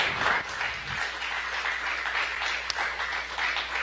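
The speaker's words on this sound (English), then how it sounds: "May be able to hear some clapping here in the room in Mission Control." Applause from a team in a NASA Mission Control room after the Boeing Starliner landing, steady moderate clapping filling the room with some background chatter mixed in.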